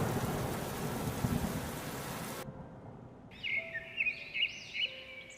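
Heavy rain pours in a cartoon story, loud and steady, then cuts to quieter rain with several distinct close rumbling thunder bursts and a thin whistling tone.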